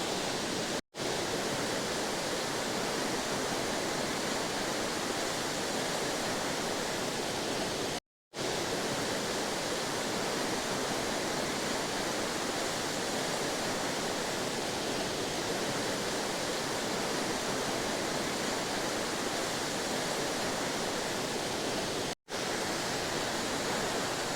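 Jogini Waterfall near Manali pours from a great height in a steady, dense roar of falling water that fills the whole clip without pause, apart from a few brief dropouts.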